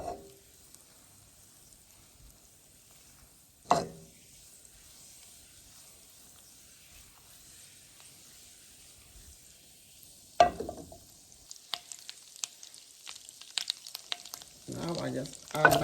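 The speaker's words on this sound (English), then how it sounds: "I'm going to just melt my butter all the way through before I add my shrimp." Butter melts in a pan with a faint, steady sizzle, broken by a couple of sharp clanks and a burst of louder scraping and stirring toward the end.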